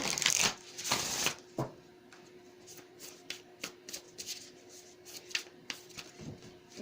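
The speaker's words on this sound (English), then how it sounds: "So let's get some more cards here." Tarot cards being shuffled by hand, a loud riffling burst followed by a series of softer, quick card slaps and flicks in an uneven rhythm, close and clear.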